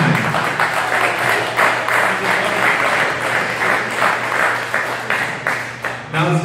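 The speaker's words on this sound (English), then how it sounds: "So, one more round of applause" Applause from an audience at a post-race interview after Ironman Wisconsin, a dense, steady wash of many hands clapping that swells and fades across several seconds, with a few voices faintly mixed in.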